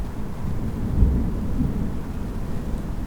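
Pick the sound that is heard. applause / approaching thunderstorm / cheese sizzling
approaching thunderstorm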